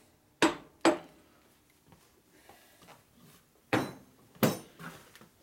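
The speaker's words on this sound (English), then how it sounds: "light taps with a lead hammer. Basically, it's a dead blow hammer." Four sharp metallic taps of a lead dead blow hammer on a Harley Shovelhead big bore motor, in two pairs, fairly close, with quiet handling noises between them.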